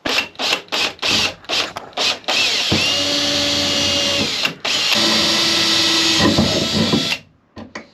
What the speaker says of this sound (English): I've drilled through again, through the metal, and then put the self-tapper in